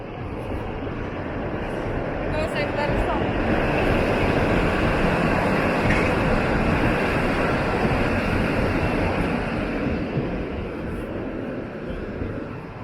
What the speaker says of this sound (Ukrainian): такий суперсучасний трамвай